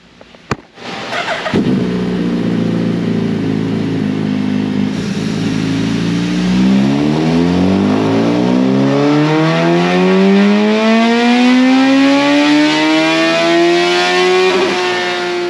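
A 2022 Suzuki Hayabusa fitted with billet velocity stacks revs hard on a dyno, engine note climbing steadily through a long full-throttle pull after a brief sharp start, loud and close with no talk.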